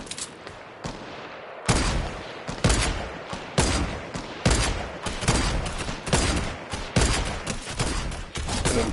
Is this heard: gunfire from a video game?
yes